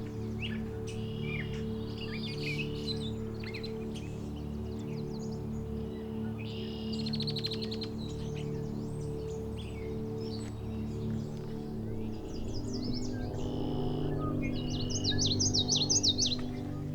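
Many birds sing and chirp along a marshy back loop of a hiking trail in Indiana, short bright calls scattered throughout and busiest toward the end, over a steady low drone.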